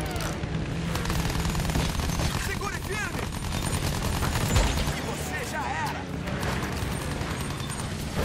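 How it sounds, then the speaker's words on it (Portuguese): Heavy gunfire crackles throughout a World War I battle in the Battlefield 1 campaign, with dense rapid shots and occasional booms layered in a continuous loud fusillade, while voices speak over the combat. "Eu tô tomando tiro de tudo quanto é lado aqui"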